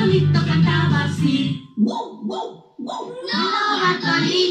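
Voices imitate a dog's barking in a short burst of sung yelps within a lively children's song, loud and close, with singing before and after.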